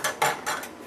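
A spoon clinks and scrapes inside a pot of beet pulp, three or four quick metallic knocks close by within a second, with no talk.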